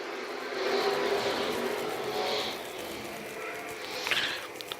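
Hobby-class race cars take the green flag at the 44th Annual National 100 weekend. A broad roar of engines swells and holds, heard from a distance over the track.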